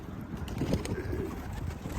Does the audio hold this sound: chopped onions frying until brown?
no